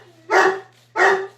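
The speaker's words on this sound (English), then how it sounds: "he's not going to stop barking" Two sharp, loud barks from a dog indoors, close to the mic, evenly spaced less than a second apart over a low steady hum.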